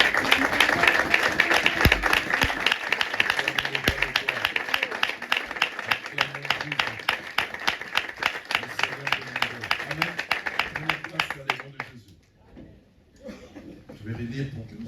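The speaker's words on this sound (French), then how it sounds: "Nous allons nous lever pour acclamer la parole de Dieu." Church congregation at a Sunday service applauding together in rapid, dense clapping that holds steady, then thins and fades near the end, with voices and light laughter mixed in.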